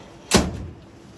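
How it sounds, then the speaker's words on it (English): The door of a cash machine is shut with a single sharp slam, followed by a brief rattling decay, close and loud against quiet surroundings. "Go ahead and shut your door."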